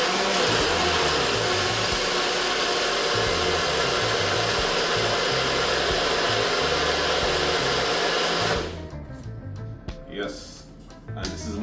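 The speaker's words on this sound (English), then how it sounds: "And then we're gonna start blending." A blender whirs loudly and steadily for several seconds blending green seasoning, then shuts off, leaving quieter background noise and a few soft knocks.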